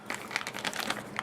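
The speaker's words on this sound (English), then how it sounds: "there is a little plastic storage bag" A small plastic storage bag for Figma figure accessories crinkles in quick, faint, irregular rustles close up.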